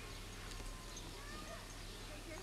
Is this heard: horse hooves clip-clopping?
yes